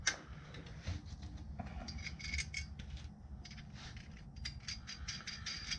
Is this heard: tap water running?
no